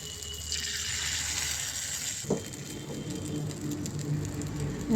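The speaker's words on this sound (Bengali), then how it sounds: "গরম জলটা আমি ওই গোলাটার মধ্যে দিলাম একটু পাতলা করার জন্য" Hot water poured into rice flour batter for sanjher pitha in a village kitchen: a steady gushing pour for about two seconds that stops abruptly, followed by a short knock and quieter rustling handling noises.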